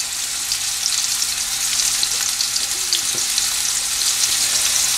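Red chilies and curry leaves sizzle and crackle in hot oil in a pan, a steady bright frying hiss with an occasional stir, close and continuous, no talking.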